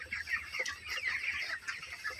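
Broiler chickens in a poultry shed cluck steadily as they get up to drink vaccine water, a dense, continuous chorus of overlapping close-by clucks with no voices.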